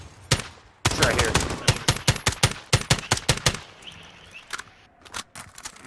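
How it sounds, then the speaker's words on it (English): Rapid bursts of gunfire in Call of Duty: Modern Warfare, loud sharp shots cracking in quick uneven volleys, then sparser single shots trailing off. "He could hear the rounds whipping past on his screen"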